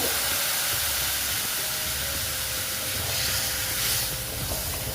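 Water poured into a pan of sizzling ground spices and ginger paste while cooking a rohu fish curry, giving a steady, close steamy hiss and sizzle that holds throughout with a slight swell near the end.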